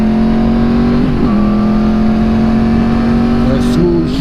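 A motorcycle engine revs through a smooth downshift, a loud steady drone with a brief pitch dip and rise about a second in, then another blip near the end, with the rider close by.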